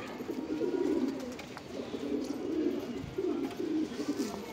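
Pigeons coo softly and repeatedly nearby, low rolling calls overlapping in a steady rhythm.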